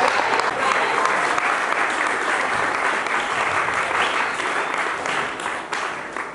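A church congregation applauding, dense steady clapping from many hands filling the room, with a voice heard faintly in the mix.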